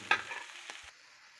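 Vegetables and spices sautéing with shrimp in a pan, giving a brief soft sizzle and a quick utensil stir before fading to near silence.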